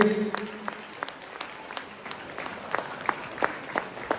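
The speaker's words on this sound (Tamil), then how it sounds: "உங்களுடைய கரகோஷத்துக்கு மத்தியிலே" Sparse, fairly quiet applause from a Tamil stage audience as a prize is presented, with individual claps spaced apart and a voice briefly heard at the start.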